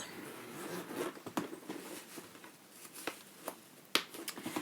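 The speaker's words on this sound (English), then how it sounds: "let me close the zipper on this" Zipper on a rose-coloured Guess bag being drawn closed up close, a quiet series of short ratcheting rasps and small clicks in an otherwise hushed room.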